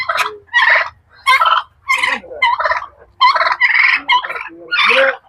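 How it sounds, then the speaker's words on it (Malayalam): Two turkeys, one a hen, gobble close by in a farmyard, loud and alone, in about ten rapid bursts with short pauses between them. "ടർക്കി ഇതാ രണ്ട്"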